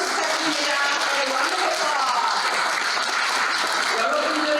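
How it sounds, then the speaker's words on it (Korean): An audience applauds at a Seattle Korean community year-end Arirang night, a dense, loud and steady wash of clapping that runs unbroken across the whole stretch. "뜨거운 박수 부탁드립니다"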